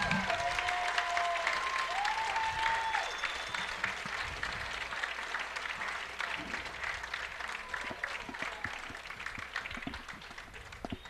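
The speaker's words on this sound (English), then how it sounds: "Let's give a big round of applause for our seniors and their parents." A crowd at a high school football field applauds seniors and their parents, with sustained broad clapping and some cheering that slowly thins out over several seconds.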